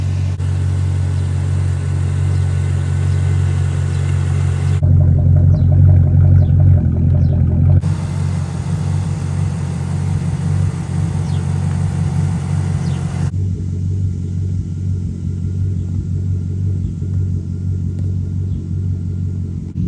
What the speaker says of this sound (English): way better now, way better.